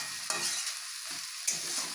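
A spice paste with potato and soybean chunks frying in oil in a pan, a continuous close sizzle with a couple of sharp stirring scrapes.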